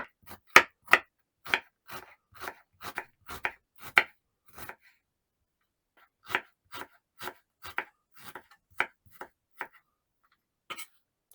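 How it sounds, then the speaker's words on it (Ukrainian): A knife chops an onion into cubes sharply on a cutting board in quick bursts of crisp taps, pausing briefly before another run of steady chopping. "Для засмажки мені потрібна цибуля, перерізаю навпіл і потім кубиками."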